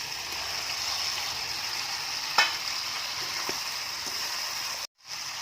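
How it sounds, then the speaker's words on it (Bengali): Fried okra tipped into a pan of sizzling tomato masala, giving a steady, close sizzle with a sharp clatter as it goes in and faint stirring, then a brief drop to silence near the end. "এবারে ভেজে রাখা ঢেঁড়সটা আমি দিয়ে দেবো।"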